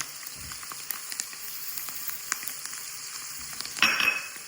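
Parsley, green onions and garlic sizzling in a pan for shrimp and grits, a steady crackling fry with scattered pops and a scrape of stirring near the end.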